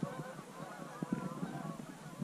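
Geese honking during a Colorado waterfowl hunt, a steady flurry of overlapping calls from a flock at moderate distance, continuing without pause and with no talk.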